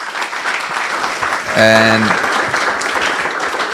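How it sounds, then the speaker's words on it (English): Audience applause for a discussion panel, steady clapping throughout with a voice speaking over it and a brief tonal sound in the middle. "deserves a round of applause."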